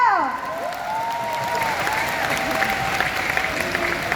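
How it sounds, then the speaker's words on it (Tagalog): Audience applause at an organizational seminar, steady clapping from a crowd with a voice speaking over it at the start, sustained at moderate loudness throughout. "Palakpak ulit tayo!"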